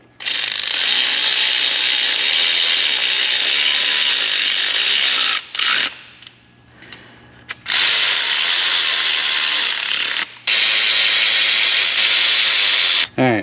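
A ratchet tightens a bolt on a 2009 Mini Cooper engine in a cramped engine bay, loud rapid clicking that runs continuously in long stretches, broken by a few short pauses.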